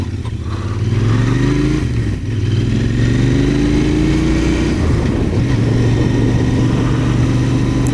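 Royal Enfield Interceptor 650 motorcycle ridden on back roads, its steady engine drone holding loud and close throughout with rising and falling pitch as it shifts and accelerates, no voices present.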